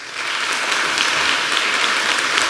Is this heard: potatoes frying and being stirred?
no